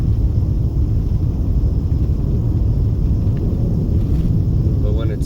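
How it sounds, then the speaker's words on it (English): Jets flying overhead on the east side of Las Vegas, heard as a loud, continuous low roar and rumble that fills the whole stretch without a break, with no voices over it. "You can hear the noise from the jets"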